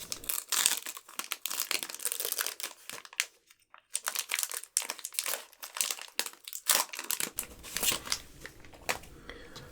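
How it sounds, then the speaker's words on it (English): Scissors snip open a foil Pokémon card pack up close. Crisp crinkling and crackling bursts come in irregular clusters with short pauses and no talking. "for the sake of everyone watching, we will be doing it with scissors."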